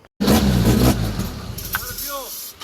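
A cheap, worn Nissan 240SX being readied as a drift build starts up loudly and keeps running with a rough, revving engine note, while people talk over it.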